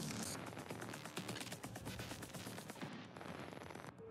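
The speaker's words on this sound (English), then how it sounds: "Okay, the turret is shooting." Rapid automatic turret fire in the video game Prey, a dense, loud, continuous rattle of shots that thins out near the end.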